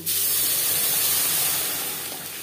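Masoor lentils dropped into a hot pan of frying spices, a sudden loud broad sizzling hiss that starts abruptly and holds steady, fading slightly near the end.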